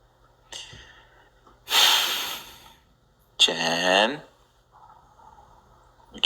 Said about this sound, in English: I can hear you breathing